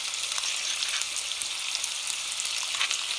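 Ginger and garlic paste with green chili frying in hot oil among whole spices for a BIR-style chicken staff curry, giving a steady close crackling sizzle throughout with brief louder pops near the end.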